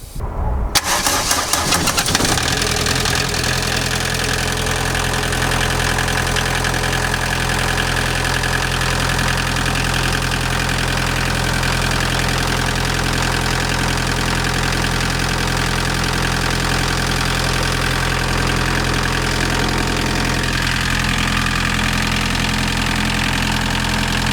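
A MK2 Volkswagen Golf engine cranks briefly and catches after a thermostat replacement, then settles into a steady, loud idle that rumbles on evenly without stopping.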